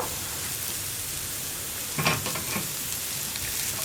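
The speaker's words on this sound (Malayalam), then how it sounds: "സവോള ഒന്ന് വഴറ്റി തുടങ്ങുക, ഒരുപാട് വഴറ്റണ്ട, ജസ്റ്റ് ട്രാൻസ്പെറൻ്റ് ആയി തുടങ്ങുക" Onions sautéing in a pan for a spicy bread snack, a steady hiss of frying with a brief burst of stirring clatter near the middle, close and moderately loud with no talking.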